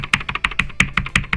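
Arrow keys on a computer keyboard pressed in a quick, even run of about ten crisp clicks, close and clear, with no talking.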